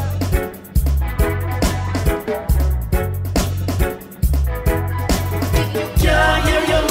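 Reggae track, a loud steady groove with heavy pulsing bass and crisp drum hits in a repeating rhythm, full band mix.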